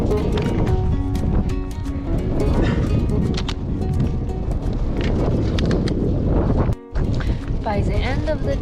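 Strong wind buffets the microphone on a rocky mountain top in the Meymeh wilderness of Isfahan, Iran, a loud, continuous roar with gusty surges, broken by a brief lull near the end.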